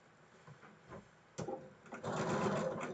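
A sewing machine stitching the edges of a quilt block, starting with a few soft clicks and thumps and then running in a steady, moderately quiet whir near the end.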